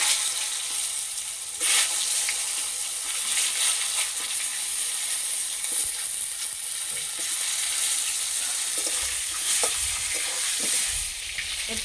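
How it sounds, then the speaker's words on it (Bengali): Pointed gourd frying in mustard oil with a little turmeric and salt in a karahi, a steady close hiss of sizzling with occasional stirring clinks, no talking. "পটলগুলো ভেজে নেব।"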